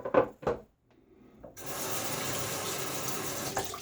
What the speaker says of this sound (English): Quick splash on my face.